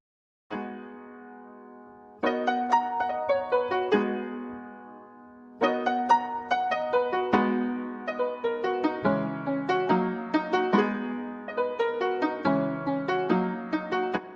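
A soft piano from the Warm Embrace preset in the Tasty Jams bank plays a gentle melody over sustained chords, notes ringing and overlapping with a warm, mellow tone, heard alone.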